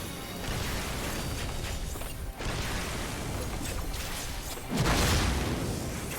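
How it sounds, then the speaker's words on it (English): Rumbling explosions and mechanical clanking in a boss fight in Final Fantasy XIV, with a steady dense roar and a louder burst near the end, continuous and without talk. "explosions happening around here"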